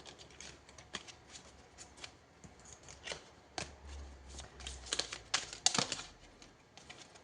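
Tarot cards being shuffled and drawn from the deck make soft, close riffling and snapping sounds in irregular bursts, some flicks sharper than others.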